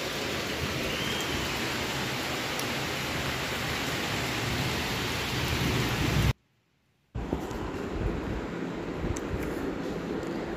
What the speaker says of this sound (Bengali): কি হারে বৃষ্টি হচ্ছে দেখো